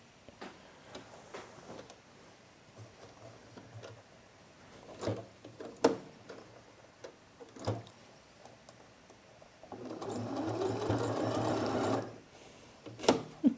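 Sewing machine stitching fabric in short bursts, with faint ticks and handling noises between runs and a longer steady whirring run near the end, heard close and alone.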